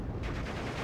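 LG-42 rifle fire in a World War II shooter, a brief dense rattle of shots close up, lasting under a second with no voices.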